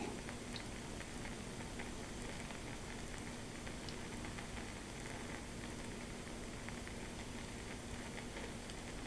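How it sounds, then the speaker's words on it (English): A quiet, steady sizzle and hiss from an MRE ration heater, with scattered tiny pops and crackles as it heats and steams close by, with no talking. "give you some quiet time with the sizzle and steam."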